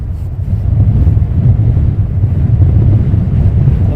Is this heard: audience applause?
no